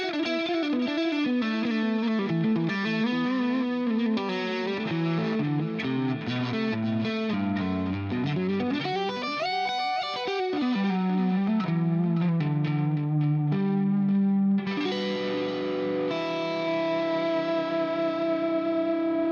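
A clean lead electric guitar tone with compression, played through a HeadRush unit, carries a continuous melodic line with sustained bends and rapid runs, loud and close, with chorus and echo tails and no voices.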